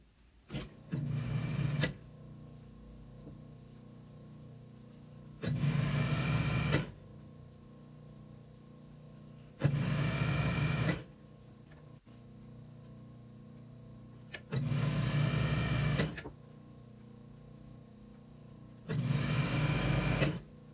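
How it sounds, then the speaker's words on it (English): Sewing machine stitching a border onto a footstool's top panel, running in five short bursts of rapid whirring separated by quiet pauses, close and clear with no talk. "So we're going to sew the border onto that top panel."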